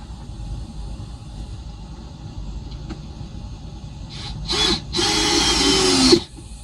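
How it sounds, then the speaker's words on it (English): A power tool drives decking screws while a wooden deck is being built, a couple of short whirring bursts and then one longer, louder run up close, ending abruptly. "I'll even tighten up those screws a little bit down there too."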